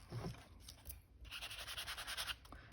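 A sanding block rubbed over a glossy journal embellishment to rough it up, making soft close scratchy strokes, a brief pause, then a run of quicker rhythmic rasping passes, quiet and with no talk.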